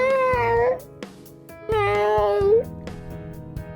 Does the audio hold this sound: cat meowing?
yes